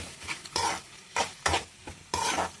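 A spoon scrapes and stirs chicken curry masala with ginger garlic paste and tomato in a sizzling pan, making loud rhythmic swishing strokes roughly every half second with frying hiss underneath.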